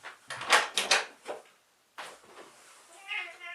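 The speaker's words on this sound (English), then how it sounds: "It's my cat scratching." A cat makes a few quick scratching and rattling bursts against a door, close by, followed by a pause and softer scraping with a faint voice.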